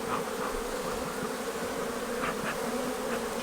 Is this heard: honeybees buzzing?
yes